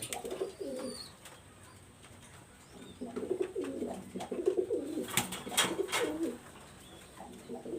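Pakistani high flyer pigeons coo in a loft, repeated soft throaty coos in bursts with a few sharp chirps and rustles, moderately near.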